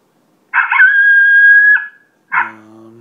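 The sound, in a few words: challenge howl played by Primos Turbo Dogg electronic predator call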